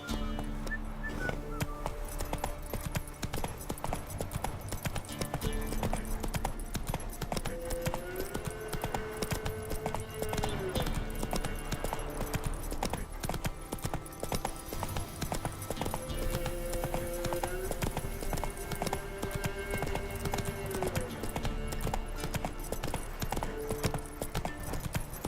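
Roach, a horse in The Witcher 3, trots with a steady, rapid clip-clop of hooves throughout, accompanied by a continuous background music bed.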